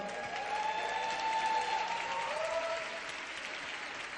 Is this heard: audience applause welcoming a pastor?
yes